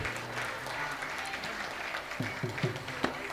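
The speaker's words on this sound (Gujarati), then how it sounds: "તમારા તાળીઓના અવાજથી અમને બેકસ્ટેજ ખબર પડવી જોઈએ" Audience applause at a dance arangetram performance, a steady dense clatter of clapping with a low hum and faint music underneath, rising slightly toward the end.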